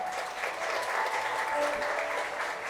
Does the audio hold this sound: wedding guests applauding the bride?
yes